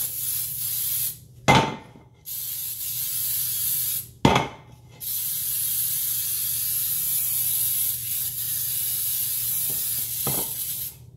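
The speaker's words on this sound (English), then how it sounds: "I have this spray that I use in the can. It's like a baking spray with flour." Baking spray with flour hissing from an aerosol can onto a pound cake pan: several bursts of spraying, with two short sharp bursts and longer steady hissing between, close and fairly loud.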